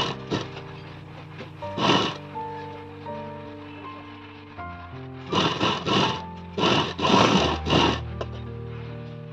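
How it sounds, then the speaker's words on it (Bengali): A sewing machine runs a pressed edge seam along net saree fabric being cut into a long gown, heard in several short, fairly close bursts of whirring stitching with pauses between, over soft steady background music and no talk. "দেখুন আমি চাপ সেলাইটা দিয়ে নিচ্ছি।"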